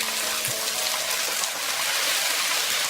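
Water sizzling in a hot wok with stir-fried prawns and snow peas, a steady dense hiss that holds evenly throughout with no talk.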